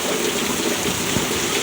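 Heavy rain pouring down in Dallas, Texas, a loud dense hiss of drops hitting surfaces that holds steady throughout, with no talking.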